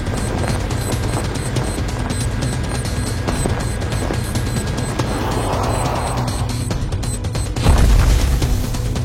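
An explosion in an animated action scene: a dense, continuous roaring rumble builds, then swells into a heavier, louder burst near the end, with no voices over it.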